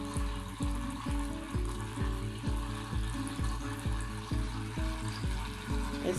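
A battery-powered raining lotus LED tabletop water fountain splashes up close with a steady trickle, overlaid by a regular pulsing beat about twice a second, with no one talking.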